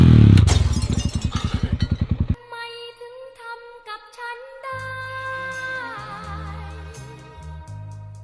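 An enduro motorcycle engine revs hard and close for about two seconds, with fast, loud pulsing throttle bursts during off-road riding instruction for a child, then cuts off and gives way to music.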